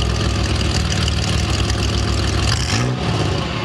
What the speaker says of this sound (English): This is what a DeLorean's real engine sounds like.